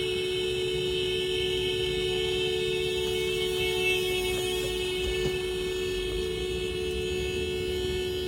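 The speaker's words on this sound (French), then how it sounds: "Voilà, je klaxonne à fond." A vehicle horn blares continuously at full blast, a loud, steady, unbroken tone held for several seconds with no pauses.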